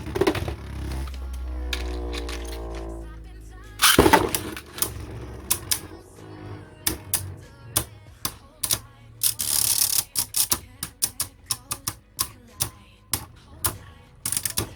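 Beyblade Burst Pro Series tops launch with a ripcord zip, then spin and clash in a stadium, sharp rapid metallic clicks and collisions in irregular bursts, with a voice briefly speaking.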